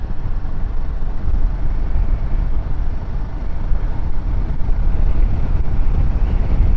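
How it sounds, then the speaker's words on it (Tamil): Strong wind buffets the microphone during a Royal Enfield Himalayan motorcycle ride on a Munnar mountain road, a loud, steady low roar with gusting surges throughout and no speech. "ஆனால் காற்று பயங்கரமாக அடிச்சிட்ருக்கு"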